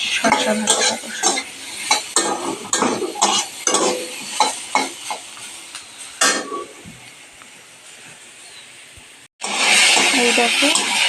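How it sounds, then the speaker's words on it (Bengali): Cucumber slices fry in a pan as a utensil stirs and scrapes them in repeated clinking strokes over a steady sizzle, followed by a quieter stretch and then a loud burst of frying. "শসা ভাজাটা বসে।"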